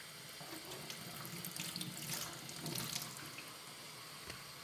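Tap water runs steadily into a sink as freshly harvested leeks are washed clean of grit, a continuous close hiss with small splashes and no voices.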